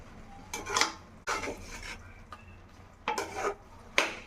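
Rice being stirred in a cooking pot for an egg biryani, a few separate scraping strokes of a spoon against the pot with short gritty rustles, close and moderately loud, no talking.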